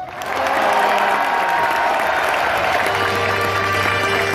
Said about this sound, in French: Va-t-il battre Auguste pour l'applaudimètre?